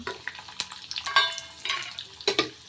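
Garlic cloves, urad dal and dried red chillies fry in a pan with an uneven crackle and sputter, broken by a few louder stirring scrapes and clinks close by.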